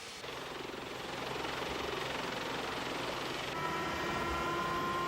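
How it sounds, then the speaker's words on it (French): A naval Lynx helicopter flies over the area at sea near a warship in the Gulf, a steady broadband rotor and engine roar that builds slightly and holds without a break. "l'un des deux hélicoptères Lynx embarqués à bord va survoler la zone"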